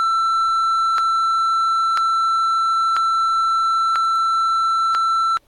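A loud, steady electronic beep from a cell phone emergency alert sounds once per second, five or six times in a row, each pulse sharp and identical, with no voices.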